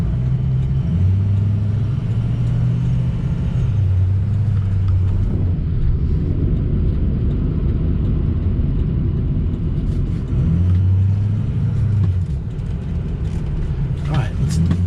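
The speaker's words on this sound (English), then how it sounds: "Spinning the tires right there." A 2004 Ford F350 diesel 4x4 truck spinning its tires, a heavy, continuous engine drone and low road rumble that rises and falls under near-constant talking inside the cab.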